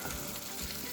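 Shrimp fry in a hot pan with a dense, even sizzle that holds steady throughout, close and moderately loud, with no voices.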